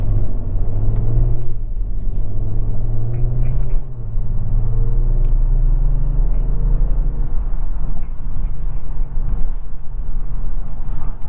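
A 2019 Kia Stinger GT1 rear-wheel-drive sedan pulls hard under throttle, its engine note a steady low drone rising through the revs, with continuous road rumble throughout and no voices over it.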